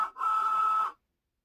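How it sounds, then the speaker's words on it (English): A Cricut Joy cutting machine auto-feeds a sheet of smart vinyl, giving a short, steady motorized whir close by that runs for under a second and then cuts off into silence. "insert smart vinyl under the guides and up against the rollers to auto feed"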